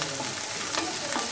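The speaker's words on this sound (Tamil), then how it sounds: "இப்போது 3 வெங்காயம் பொடியாக கட் பண்ணி வச்சுருக்கிறத இதில் சேர்த்துடுறோம். கூடவே கருவேப்பிலையை சேர்த்துக்கிறோம்." Chopped onions and curry leaves fry in hot oil for a dry fish gravy, giving a steady, dense sizzle that stays loud and even throughout, with no voices.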